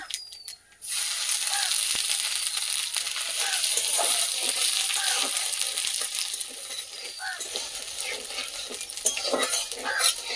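Steady frying sizzle of grated ginger and black cumin in a pan with scattered utensil scrapes and clinks from stirring, continuous throughout at moderate loudness.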